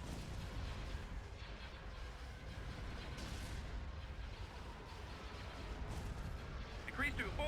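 Star destroyer turbolaser batteries firing in a Thrawn's Revenge space battle, a continuous rumbling barrage of muffled blasts and bursts at moderate level, with a burst of higher zaps near the end.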